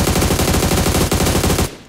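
AUG assault rifle in a video game fires a loud, steady stream of rapid automatic shots close up for nearly two seconds, then cuts off abruptly.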